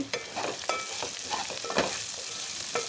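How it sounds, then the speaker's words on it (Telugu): Onions frying in a pan over medium flame, a steady crackling sizzle broken by several scraping stirs of a spoon, close and continuous with no voices. "ఆనియన్ అయితే వేగిన తర్వాత ఒక్కసారి మంచిగా అయితే కలుపుకోవాలి"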